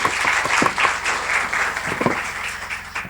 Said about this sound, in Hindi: हम सब इनके लिए एक बार ताली बजाएं।